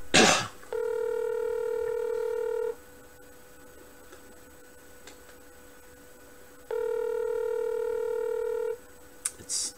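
A phone call to an animal hospital rings out through the receiver: two long, steady ringback tones separated by a pause of silence, with brief clicks at the start and end and no talking.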